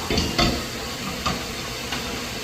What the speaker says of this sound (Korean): 고기 위에 소스 살짝 부어주시고요. 그다음에 지글지글지글 살짝 익혀서 해주셔도 되세요.